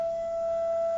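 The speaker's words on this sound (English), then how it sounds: "This is the sound of gas." A Rubens tube of burning gas gives off a steady, loud humming tone that holds at one pitch without a break for the whole second, with no talk.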